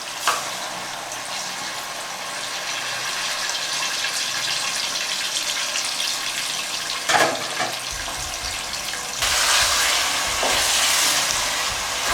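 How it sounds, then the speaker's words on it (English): Tomato sauce for a fish stew sizzles and bubbles hard in a pan after water is added, a steady frying hiss with louder splashy bursts partway through. "So I'm going to add water to loosen the tomato."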